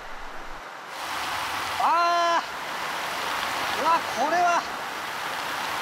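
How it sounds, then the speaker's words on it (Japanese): A simulated extreme downpour of 180 mm of rain per hour roars as a dense, steady hiss, with a person briefly exclaiming over it twice. "これはとてつもない雨ですね。"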